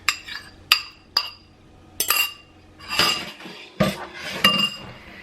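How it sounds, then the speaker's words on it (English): Wet ingredients for a thick keto breakfast batter being mixed in a bowl: a spoon or whisk knocks and clinks against the bowl in irregular sharp strikes, with soft scraping swishes between them, close and alone. "I'm going to add in our wet ingredients first, and we're going to mix those."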